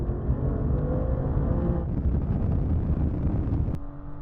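A BMW 430d and a BMW M4 accelerate side by side in a drag race, a steady loud engine roar with heavy wind buffeting, the pitch shifting midway and again near the end as gears change.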